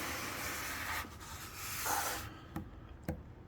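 Steady, gritty rubbing of sandpaper on live-edge wood in long continuous strokes, close by, ending with a couple of light taps.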